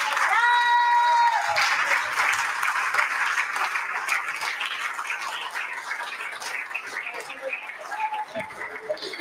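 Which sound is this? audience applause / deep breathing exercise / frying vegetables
audience applause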